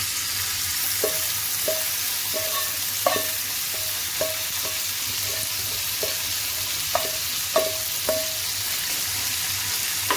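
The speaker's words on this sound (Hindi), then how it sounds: "बटर मेल्ट हो रहा होगा और साथ ही हम इसमें कीमा ऐड कर देंगे" Minced keema frying in melted butter on a flat tawa, a steady low sizzle under repeated scraping and stirring strokes from a spoon, with a few sharper metallic clinks along the way.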